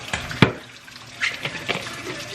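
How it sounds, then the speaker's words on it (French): Water from a tap splashes and trickles briefly while a water bottle is filled, with a sharp clunk near the start and a few light, close splashes afterward, no voices. "je vais remplir ma bouteille d'eau"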